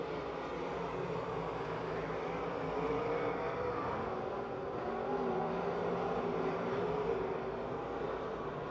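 Race cars roar around the Pennsylvania Motor Speedway oval near Pittsburgh on the final lap, a steady, dense engine drone that swells slightly mid-lap with no voices over it.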